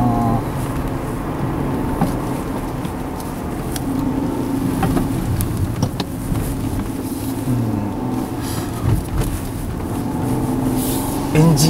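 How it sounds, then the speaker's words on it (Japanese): A 2002 Mercedes-Benz CLK320 engine hums quietly and steadily from inside the cabin while driving, a soft continuous drone with low road noise and occasional speech over it. "エンジン音がジェントルなだけにですね、ちょっとこう迫力に欠けるかもしれませんけどね"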